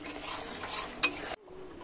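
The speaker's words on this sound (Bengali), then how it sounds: "মশলাটা খুব ভালো করে কষিয়ে নিতে হবে" Biriyani masala with Kashmiri chilli powder being stirred and fried in a pan for ilish biriyani, giving steady scraping and soft sizzle with a brief utensil clack, then cutting off to near silence.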